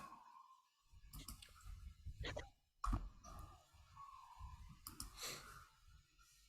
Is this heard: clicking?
yes